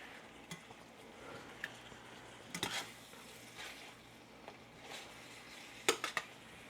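Turkey bacon browning in a pan gives a low, steady sizzle, broken by scattered clinks and scrapes of a utensil against the pan, with a few sharper knocks near the end.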